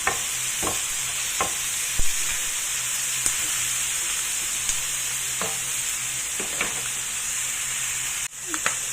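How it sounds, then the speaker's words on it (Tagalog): Chicken fries in a pan with a steady bright sizzle and hiss throughout, close and even, while a utensil stirs it with occasional scraping clicks and a brief knock near the end. "So, i-fry lang natin ng kaunti yung chicken."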